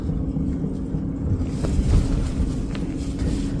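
Strong wind buffets a campsite at night in the Appalachians, a steady low roar with gusts peaking near the middle and rustling hiss above, loud and continuous with no talk.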